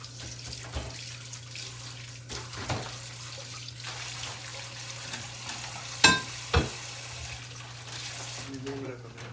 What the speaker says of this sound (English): He's gonna warm up some bacon.